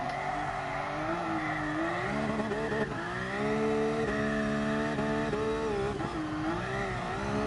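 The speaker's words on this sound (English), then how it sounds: "Look at how she's sliding with just the gentlest touch of her throttle." A car in GT Sport slides and drifts on light throttle, its engine holding a steady, close revving whine that rises and dips as the tires scrub through the slide.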